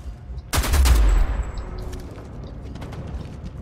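A sniper shot rings out in the shooter game Homefront: The Revolution, one sharp, loud crack with a booming tail, followed by scattered distant gunfire and mechanical clatter.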